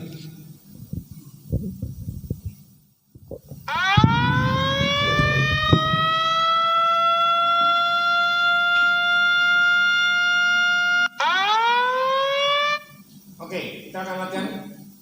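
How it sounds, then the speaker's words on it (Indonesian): During a disaster drill at a clinic, after some brief talking and clatter, a loud wailing siren rises and holds steady, cuts out for a moment, then starts up again and winds down. "Oke, kita akan latihan sirine."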